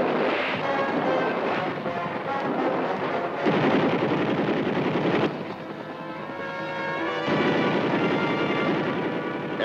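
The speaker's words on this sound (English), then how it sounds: "Forces firing from the cover of buildings are neutralized." Gunfire from troops shooting out of the cover of buildings during an Infantry Division battle, a dense, continuous roar of shots and explosions with wind noise, loud throughout with no talking.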